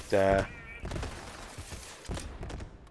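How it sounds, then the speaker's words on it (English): Rockets fired from the Magnificent legendary pistol in Borderlands 3: a brief mechanical whirring burst at the start, then a couple of dull launches and impacts, while someone talks throughout. "Just fires a couple of rockets."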